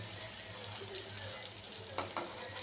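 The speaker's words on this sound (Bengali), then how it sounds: "ছানার বড়িগুলো আমার ভাজা হয়ে গেছে" Chhana (cottage cheese) balls frying in a pan, giving a steady close sizzle with a couple of brief scraping sounds near the end.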